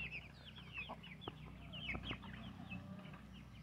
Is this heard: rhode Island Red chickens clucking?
yes